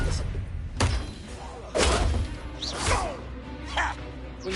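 An Expelliarmus spell is cast in the Hogwarts Legacy video game, bringing a series of whooshing magical bursts and heavy thumping impacts, spaced about a second apart at close range.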